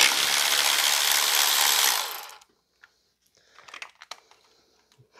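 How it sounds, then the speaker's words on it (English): A ratchet working a bolt loose on a 2005 Toyota Corolla engine, heard as two seconds of loud, rapid, continuous clicking up close, then a pause and a few scattered metallic clicks and knocks. "I'm just going to remove the bolt here,"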